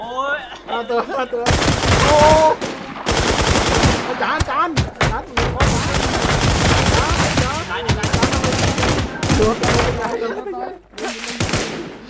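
Machine gun fire in the video game Warz Infestation, loud rapid bursts repeating through the clip with short gaps, close and dense, with excited voices talking over the shooting.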